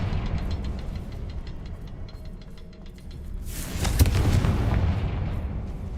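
The Confringo spell fires at rune symbols in Hogwarts Legacy, a booming blast that swells up midway and lingers as a loud rumbling burst over earlier background game sounds.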